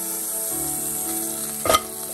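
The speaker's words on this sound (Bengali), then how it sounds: "এখন আমি আরেকটা প্যানে একটু বাটার দিয়ে দেব, 1 চামচ পরিমাণ।" A spoonful of butter sizzles in a hot pan during corn cupcake preparation, a steady close hiss that swells into a brief louder crackle near the end.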